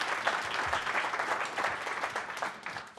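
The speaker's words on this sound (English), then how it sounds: "So please give him a round of applause" An audience claps for a Netflix product VP taking the stage at a talk, a short burst of dense, close applause that tapers slightly at the end.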